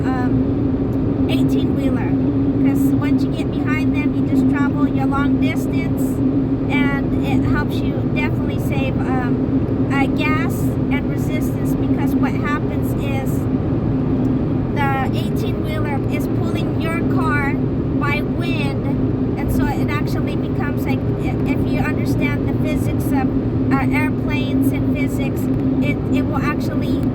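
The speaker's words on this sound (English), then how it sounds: "I got this horrible wind on the top of my car" Wind buffets the roof of a moving car on a road trip, a loud steady rush mixed with road and engine rumble that lasts throughout, while a person talks over it.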